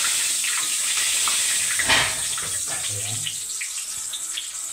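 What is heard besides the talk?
water running from a tap while washing hands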